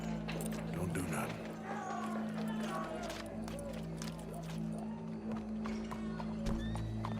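Rhythmic clip-clop of hooves alongside a horse neighing in Red Dead Redemption, over a constant low droning background with voices chattering.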